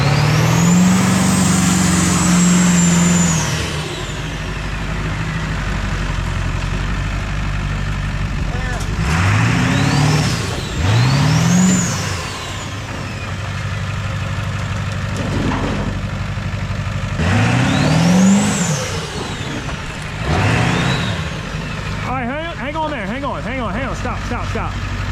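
A pickup truck engine rumbles steadily while backing and maneuvering in a yard, with repeated rising and falling revs and a hiss like air brakes near the start, close by.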